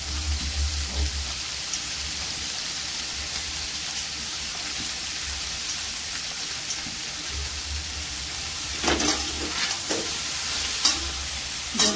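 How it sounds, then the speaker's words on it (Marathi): Ridge gourd and soaked dal stir-fry in a pan, a continuous frying hiss with soft scraping stirs and a few louder clatters of a spatula toward the end. "दोडके पण छान परतून घ्यायचे।"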